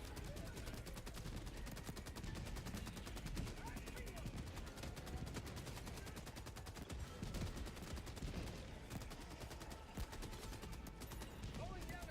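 Gunfire in Helldivers 2 against the Illuminate, a faint, steady stream of rapid shots and small blasts running continuously underneath.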